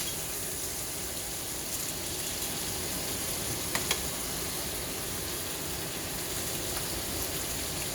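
A sous vide steak sears in a hot pan, a steady, even hiss of sizzling with a few faint crackles, continuous and close.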